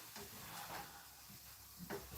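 Food cooking in a pan gives off a faint, steady sizzle and hiss, with a few soft stirring clatters scattered through it.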